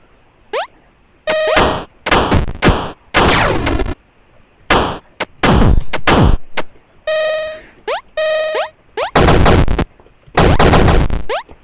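Machine gun fire in the retro arcade game Super Crate Box: loud, clipped electronic bursts and clanging shots in rapid, choppy clusters, separated by brief silences, with no talk.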